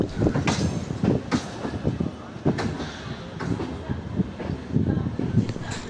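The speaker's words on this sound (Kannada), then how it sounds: "ಈಗ ಈ ಟ್ರೈನು ಬೆಂಗಳೂರು ರೈಲ್ವೆ ಸ್ಟೇಷನ್ ಬಿಟ್ಟಿದೆ." A MEMU passenger train on the Bengaluru to Mysuru run pulls out of Bengaluru railway station, heard from on board as loud, close clickety-clack thumps over the rails with a steady rumble and some background voices.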